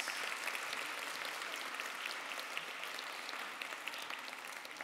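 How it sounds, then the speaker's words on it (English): Steady, enthusiastic applause from a sizable crowd at an awards ceremony after a quartet performs, dense clapping sustained throughout without pause and fading only slightly near the end. "Give them a round of applause."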